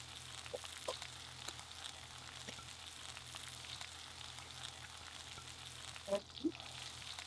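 Dry ingredients hitting hot ghee for an Anglo-Indian ball curry, a soft steady sizzle and crackle with occasional stirring clinks and two brighter pops near the end, quiet and close, no talk.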